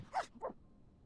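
A dog in The Sims video game gives two short barks in quick succession, close and fairly quiet, followed by near silence.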